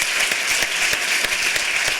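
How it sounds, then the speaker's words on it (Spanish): A loud, dense burst of audience applause closes a Spanish-language talk, with many hands clapping steadily and close at full strength throughout, with no voices over it. "me gustaría despedirte con un fortísimo aplauso"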